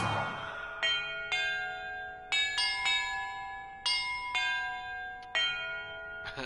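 Bells in Hogwarts Legacy ring one at a time as the player strikes them in a puzzle sequence, each bright metallic tone starting sharply and decaying into overlapping resonant sustain, around eight strikes in irregular succession with no talk.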